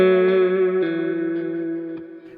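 Electric guitar through a Kemper profiler with reverb and delay dialed up, a single sustained chord ringing out with a soft washy tail, a second strum near the middle, gradually fading, close and alone.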